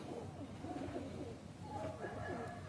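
Lakha pigeons coo softly in a loft, a low murmuring call over steady background noise, faint and continuous with no talking.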